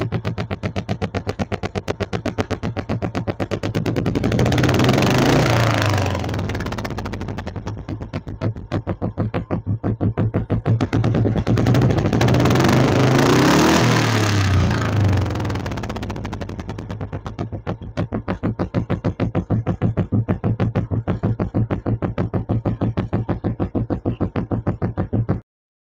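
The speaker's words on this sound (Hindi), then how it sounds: "तो दोस्तों आपने नॉर्मल आवाज सुनी बुलेट की कि कैसी आती है" Royal Enfield Bullet motorcycle idling and revving with its stock, unmodified exhaust: a loud, steady thumping engine note with two swelling revs, continuous for about twenty-five seconds with no talking.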